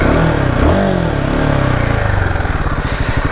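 A Royal Enfield Himalayan 450 motorcycle riding along a muddy road, its 450 cc engine droning loudly and steadily up close, with pitch rising and falling under throttle and a throbbing pulse near the end.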